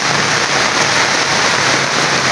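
Very heavy rain pounds down outdoors over plants and a fish area, a dense, loud, unbroken hiss of drops on surfaces with no voices.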